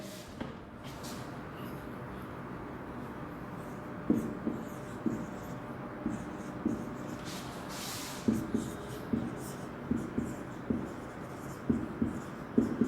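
Pen writing an accounting entry in a cash book, scratchy strokes in short regular bursts that grow more frequent toward the end, close and quiet.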